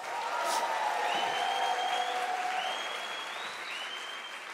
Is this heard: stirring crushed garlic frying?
no